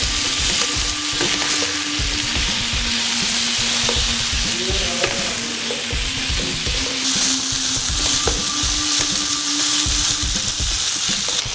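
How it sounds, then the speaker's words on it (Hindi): Chicken fries in a hot pan with garam masala and turmeric powder, a steady, close sizzle with rhythmic stirring scrapes throughout and a faint background hum. "अब गरम मसाला और टर्मरिक पाउडर को डालेंगे। 1 मिनट और फ्राई करेंगे।"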